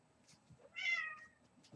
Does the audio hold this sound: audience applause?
no